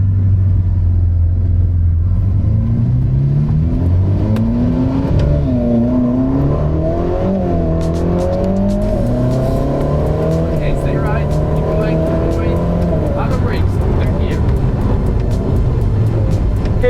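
A Ferrari sports car engine revs and accelerates hard on a track, pitch climbing through gear changes, loud and close, with a continuous low rumble throughout.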